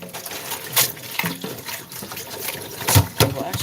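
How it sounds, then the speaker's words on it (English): Tap water splashes and trickles into a sink while a pan is washed, with intermittent clinks and rinsing bursts, close by. "So I'm washing the pan first."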